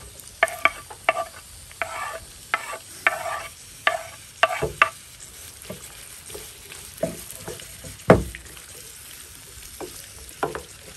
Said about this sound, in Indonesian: Sekarang kita goreng bawang merah dan bawang putih.